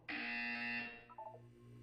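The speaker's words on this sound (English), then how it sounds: "When you hear the buzzer, look down at the floor." A single electronic buzzer sounds in the video game Portal 2. It's a harsh, loud tone that holds for about a second and then cuts off, followed by a few faint, short beeps.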